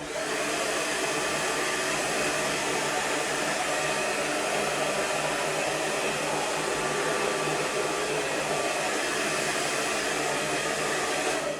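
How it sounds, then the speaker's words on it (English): A hair dryer blowing hair dry, a steady loud broadband whoosh of air held continuously throughout with no pauses and no voices. "So we're just going to blow dry that in."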